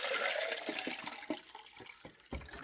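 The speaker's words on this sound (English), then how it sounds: "So we will add some water" Water is poured into a container from a Poopsie Slime Surprise bath set, a continuous splashing gush with a few louder glugs, close and alone.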